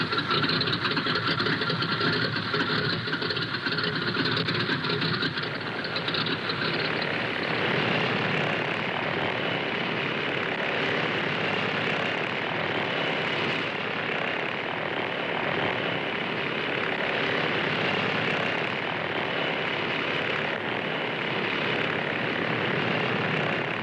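A propeller airplane's engine roars steadily as it readies for takeoff, a loud continuous droning hum that holds throughout with a slight shift in tone partway through.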